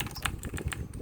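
A Filco Majestouch 2 Convertible mechanical keyboard with blue switches is typed on in a quick burst of crisp, clicky keystrokes, fairly close and alone.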